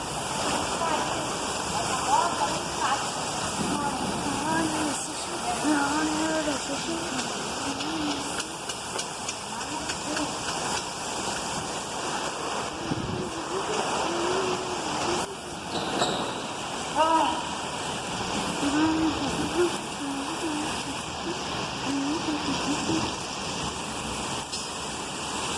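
Rain falls in Mairiporã as a steady, dense hiss that carries on without a break, with faint voices talking beneath it.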